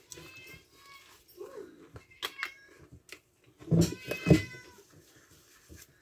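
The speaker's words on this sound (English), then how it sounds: "got a very loud, distinctive meow" A cat lets out two loud, drawn-out meows nearby, following quieter household noises and faint rustling.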